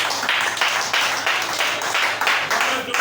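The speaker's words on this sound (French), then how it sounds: "Acclamez très fort." A church audience claps loudly in a dense, continuous burst of applause with pulsing swells, close and filling the room.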